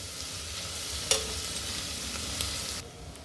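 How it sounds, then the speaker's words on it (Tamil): Onions and green chili sautéing in a pan crackle with a constant close sizzle, marked by a couple of sharp spoon scrapes before it quiets at the end. "வெங்காயம் நல்லா வதங்கட்டும்"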